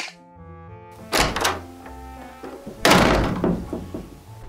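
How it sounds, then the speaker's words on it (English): A door slams twice, each a heavy thunk with a rattling echo, loud and close, the second hit stronger and both ringing out over a faint musical background. "Oh, you didn't have to slam the door."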